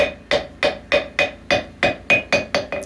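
A hammer strikes a cast steel anvil about ten times in an even rhythm, each blow a sharp close ring that dies away quickly with a slightly dull tone.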